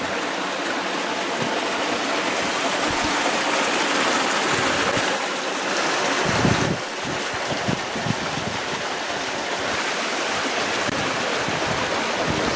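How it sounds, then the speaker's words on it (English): Steady rushing water of a creek spilling over a waterfall at a backcountry pool on a New Zealand plateau, a continuous broadband roar heard close and loud throughout, with no speech. "The pool at the top of a waterfall."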